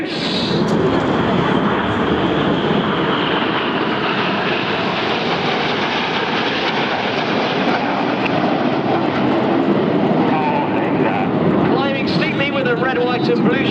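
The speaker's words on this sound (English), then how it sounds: "Look right towards Beachy Head. There's a lone jet." A Red Arrows jet in flight at the Eastbourne airshow near Beachy Head gives a loud, continuous broadband roar that holds steady for over ten seconds, with a voice speaking over it.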